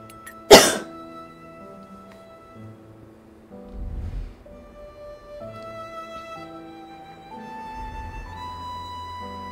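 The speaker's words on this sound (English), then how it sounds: "I have like a cough building in my throat." A single sharp, loud cough breaks the quiet, followed by soft low murmurs and faint sustained musical tones.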